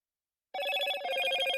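Motorola phone ringtone in an advert, starting abruptly after a brief silence as a bright, melodic electronic chime repeating in quick pulses, loud and close with no voice.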